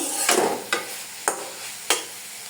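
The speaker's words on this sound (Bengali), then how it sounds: "এখানে আমি ঘি কাঞ্চন শাকটা পেঁয়াজ এবং রসুন দিয়ে তেলে দিয়ে দিয়েছি।" Ghee kanchan greens frying in oil with onion and garlic give off a steady sizzle broken by four sharp spatula scrapes against the pan at regular intervals, close and fairly loud.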